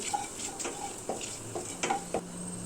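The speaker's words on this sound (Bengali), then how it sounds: "প্রথমে কড়াইতে তেল গরম করে সর্ষে ফোড়ন দিয়ে দেব।" Mustard seeds fry in hot oil in a wok, a quiet sizzle broken by scattered pops and spatters, with light clinks of a utensil stirring, close and without voices.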